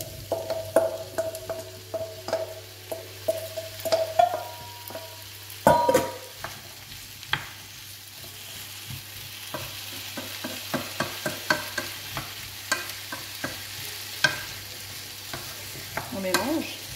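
Potatoes for a Spanish tortilla fry in a pan with a steady low sizzle, broken by frequent scraping and clattering stirs, one louder knock partway through, close and with no speech.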